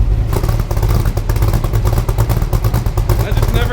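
Ford GT40 with a Roush 427SR V8 rumbling loudly up close, its exhaust pulsing in a steady, throaty burble with quick rev blips layered over it.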